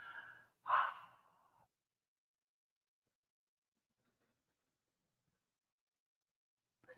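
A single ujjayi breath exhaled through the nose with a constricted throat gives one soft, breathy rasp lasting about a second, then long silence and a faint breath at the very end.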